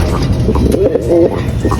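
A pigeon coos in soft, low, rolling notes close by, a short throaty call over a muffled background.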